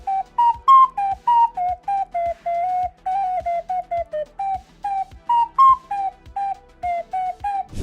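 A small 3D printed whistle is blown in a quick series of short, bright, clear tones, each cut off sharply, with steady rhythmic breaths shifting the pitch slightly up and down.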